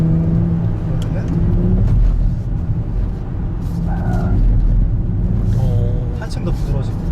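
Hyundai Ioniq 6 N electric car sliding through a drift on wet asphalt, a steady whirring drive and road noise with faint tyre squeals, heard under continuous talking.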